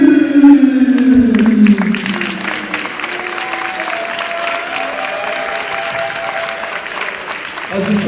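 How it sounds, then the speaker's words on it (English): An audience at a competition event breaks into loud sustained applause with some cheering. A voice speaks over the clapping at the start, and the ovation continues to the end. "a huge applause for the one and only"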